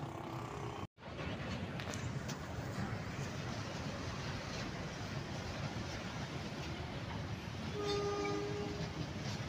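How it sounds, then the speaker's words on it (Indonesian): A fuel tanker train is shunted from the Pertamina Janti depot to Malang Kota Lama station in Malang, sounding as a steady loud rumble of rail cars with a brief horn blast near the end. "Ini lansiran BBM ya teman-teman, dari depo Pertamina Janti Kota Malang menuju stasiun Malang Kota Lama"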